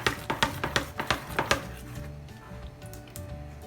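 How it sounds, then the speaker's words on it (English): Idli batter being stirred with salt in a bowl, a quick run of about eight sharp scraping, clinking strokes, then quieter steady stirring with a faint background hum. "Give it a good mix with salt first."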